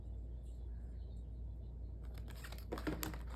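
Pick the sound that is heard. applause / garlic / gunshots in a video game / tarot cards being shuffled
tarot cards being shuffled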